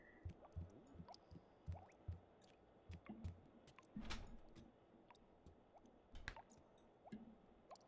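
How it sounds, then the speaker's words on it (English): Water dripping from a sink in The Sims 2, a series of small irregular drips and squishy plops, soft and close, with a slightly louder splash midway and no talking. "Is there like a dripping water sound effect coming from this sink?"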